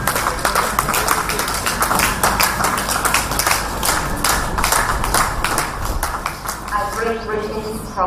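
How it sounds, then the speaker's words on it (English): Clapping at a memorial lecture in Lagos, brisk irregular hand claps from a crowd heard close and fairly loud, with voices and a brief tonal sound near the end. "Just keep clapping"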